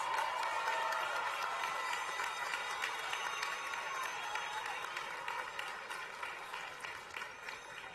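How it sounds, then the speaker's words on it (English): A graduation convocation crowd at Montclair State University applauds new educators, administrators and counselors, a dense steady wash of many hands clapping at a distance that fades slightly toward the end, with no talk over it. "Let's all give our next generation of educators, administrators, and counselors of New Jersey a round of applause"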